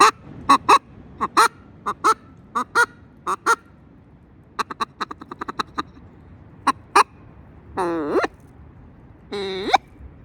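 Sharp honking goose-like calls from a Flextone game call, blown in short bursts and quick rapid runs, with a couple of longer wavering honks near the end.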